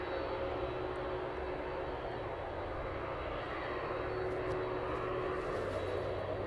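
A jet airliner waits and rolls on runway 27 at East Midlands Airport before takeoff, its engines giving a steady, loud, continuous roar and whine heard from close by, with faint talk in the background.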